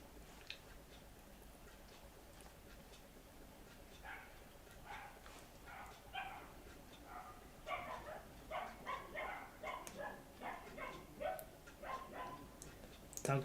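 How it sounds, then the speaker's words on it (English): A dog barks outdoors at a distance, faint and muffled, with a quick run of repeated barks growing slightly louder toward the end over a low background hum. "Dog's barking outside."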